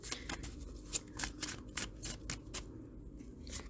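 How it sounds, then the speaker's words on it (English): Tarot cards are shuffled and drawn by hand, a quiet run of crisp riffling snaps and slides in an irregular rhythm, close up with no talking. "I'm just going to pull more cards for you"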